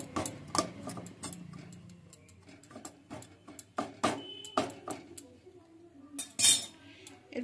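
A spatula chops hot roasted tomato and eggplant, a run of sharp, irregular taps and clinks against the dish, close and fairly loud, alone.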